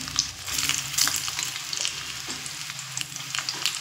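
Mango pieces rubbed with salt and turmeric and sun-dried, frying in oil over medium-high flame for mango pickle, with a steady close sizzle and crackle and occasional scrapes of stirring throughout.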